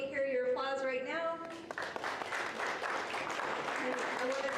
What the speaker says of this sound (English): please let me hear your applause right now